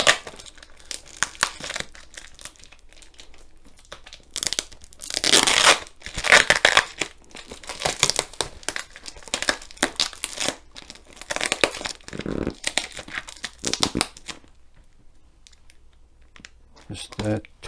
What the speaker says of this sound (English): if I just try and take the tape